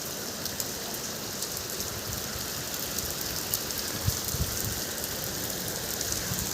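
Heavy rain pours down steadily in a dense, unbroken wash of patter on surfaces nearby, loud and constant throughout.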